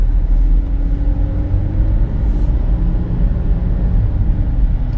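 A Cadillac ATS 2.0 Luxury is heard from inside while driving, with a steady, close engine and road rumble continuing throughout and no talking.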